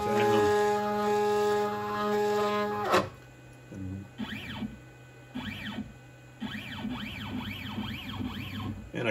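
An upgraded X-Carve CNC machine jogs its Z-axis during a test. A steady tonal hum cuts off, then stepper motors whine in short rising and falling sweeps across several separate bursts.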